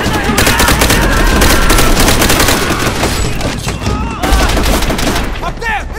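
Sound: machine gun fire in World at War video game

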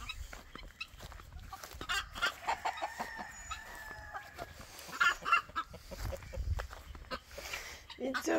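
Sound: hen clucking while sitting on chicks

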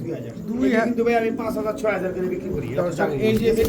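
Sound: Afghan Lahori pigeon cooing

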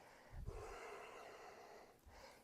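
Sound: breathing during yoga

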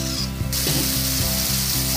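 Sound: vegetables with panch phoron sautéing in oil

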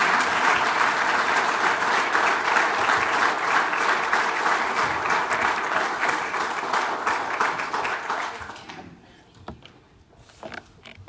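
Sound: audience applause welcoming a speaker

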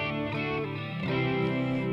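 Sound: electric guitar with chorus effect, Boss Katana MkII amp

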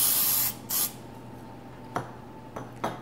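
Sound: spraying oil onto beets

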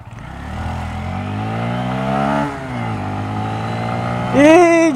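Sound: Honda MSX125 Grom motorcycle accelerating

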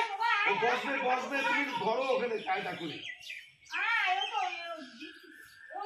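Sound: parrot chirping

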